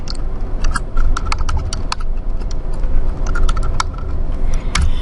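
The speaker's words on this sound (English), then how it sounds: "I just keep continuing to hit tab in between each thing I type." Rapid, uneven clicking of keys on a computer keyboard, with repeated tab key presses between typed entries, close up and continuous over a low background hum.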